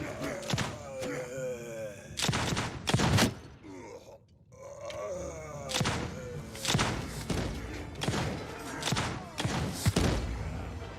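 Repeated sharp gunpowder musket volleys in a Witch Hunter General Old Realms mod battle, booming in uneven bursts of several shots close together, loud and near, with grunts and battle noise underneath.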